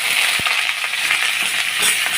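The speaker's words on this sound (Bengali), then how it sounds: "এগুলোই এখন দিয়ে দেবো একবারে ভাজা ভাজা হয়ে" Steady hiss of ingredients frying in a pan for Bengali rui fish curry, a continuous bright sizzle with a few faint clinks.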